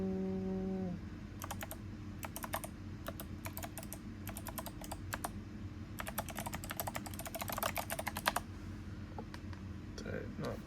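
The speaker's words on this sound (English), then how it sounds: "Did I not type the password in right?" A password typed on a computer keyboard while installing software on Linux Mint: bursts of quick, close key clicks in irregular runs, with a steady background hum and a brief tone at the start.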